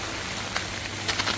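Steady rain falls on a house during the monsoon, a dense even hiss with a few louder patters, heard alone with no talking.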